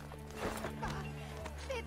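Horse hooves clip-clopping in Assassin's Creed Brotherhood, a quick rhythmic series of hoof knocks at moderate distance mixed with game ambience.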